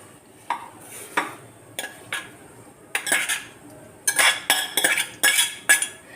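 Metal spoon scrapes and clinks against a steel vessel while banana stem buttermilk kootu is transferred into another pot, a run of sharp close clatters that grows busier toward the end.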